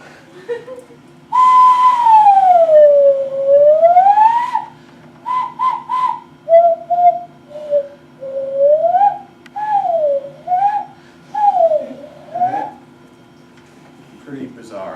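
Loon calls ring out as a long rising-and-falling wail followed by a string of shorter wavering tremolo notes, loud and clear against a faint steady hum.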